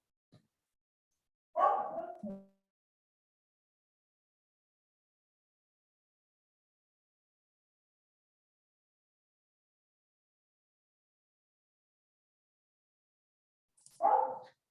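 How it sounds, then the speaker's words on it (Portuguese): Two short bursts of dog barking separated by a long silence, one early and one near the end, fairly close. "Ele tá latindo, não sei porquê, mas ele tá enlouquecido."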